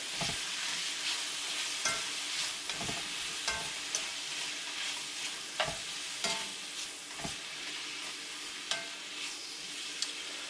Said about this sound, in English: Kind of stir it all around in there.